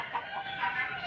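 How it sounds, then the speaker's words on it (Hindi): Australorp hens and roosters cluck on a poultry farm, a soft, continuous chorus of overlapping clucks at moderate distance with no talking. "खूबसूरत जो है ना मुर्गियाँ तैयार हुई हैं, मुर्गे भी तैयार हो गए हैं"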